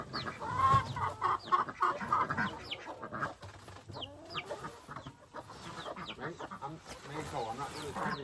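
Homestead chickens clucking and chattering close by, a busy mix of short clucks and rising squawks, with someone talking now and then among them.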